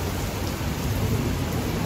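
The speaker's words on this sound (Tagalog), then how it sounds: "Sana huminto yung ulan kasi hindi ko alam paano ako pupunta" Dense, heavy rain pours down in a constant roar in Bangkok, with a deep rumble of thunder swelling underneath.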